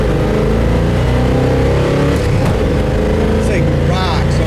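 A 1968 Chevrolet Chevelle's engine drones steadily and strongly as the car accelerates, with continuous road and wind noise and a voice briefly audible over it.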